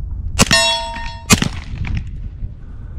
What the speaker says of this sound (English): You can tell when a 45 hits that steel plate